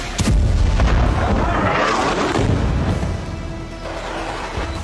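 Israeli bombardment in Gaza: a continuous loud roar of heavy explosions and rumbling blasts fills the whole stretch, with sharp impacts near the start and a dense, sustained boom throughout.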